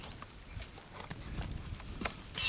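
A horse's hooves clip-clopping in a steady rhythm as it is ridden through a training session, heard fairly close with faint background noise.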